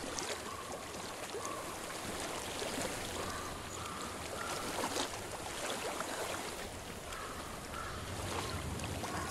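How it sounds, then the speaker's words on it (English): A flowing stream in the Hellblade game world, a steady broadband wash of running water heard close and continuous, with no voices over it. "I hear water"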